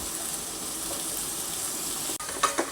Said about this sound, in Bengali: এখন হচ্ছে আমি আলুটা ভাজা ভাজা করে এই পালং শাকটা দিয়ে দিব।